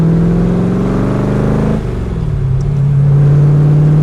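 A Factory Five Shelby Cobra's engine revs loud and close, a deep rumbling roar that dips briefly in the middle and then swells back to a strong, sustained drone.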